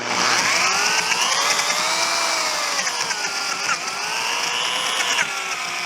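A large pipe reaming bit in a half-inch-chuck drill grinds into a PVC fitting, held over a trash can. The whine is loud, close and continuous, rising and falling in pitch as the motor loads and frees up, with no speech.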